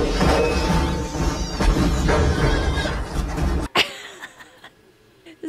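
An FLSUN T1 Max 3D printer runs with loud, busy mechanical clattering and knocking that cuts off abruptly, leaving a quieter stretch with a few scattered knocks.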